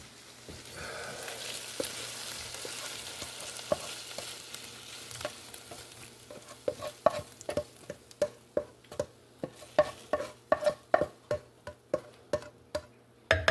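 Sautéed vegetables are stirred into a pot of red beans in broth, a soft sizzle followed by a run of regular scraping and knocking strokes from the spoon that grow louder and closer together.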